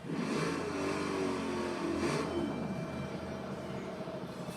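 A Corvette engine in the racing game Forza Horizon 4 revs and drones steadily for several seconds, loud and continuous, with rising and falling engine tone and no talk.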